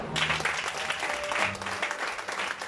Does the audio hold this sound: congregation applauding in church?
yes